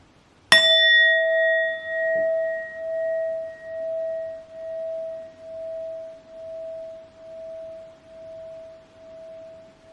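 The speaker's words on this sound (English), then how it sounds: "I will be clearing the energy using the sound bowl." A sound bowl is struck once, giving a bright metallic ring that sustains and slowly fades over about nine seconds with a gentle pulsing wobble, heard alone and close.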